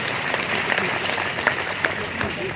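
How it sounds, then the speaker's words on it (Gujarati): Audience at a teachers' convention applauding to welcome guests, a dense steady clatter of many hands with a few sharper claps standing out, fairly close and sustained throughout. "આ બધા જ મિત્રોનું તાળીઓના ગણગાટથી મિત્રો સ્વાગત કરીએ"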